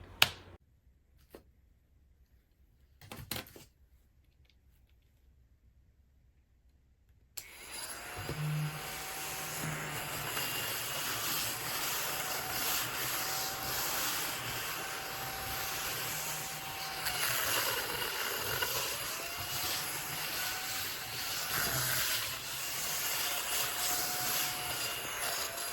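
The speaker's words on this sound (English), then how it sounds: "I'm obsessed with this little baby handheld vacuum" An ODISTAR mini desktop handheld vacuum cleaner starts with a few clicks, then switches on and runs with a steady, close motor whir and hiss whose pitch dips and rises briefly as it works.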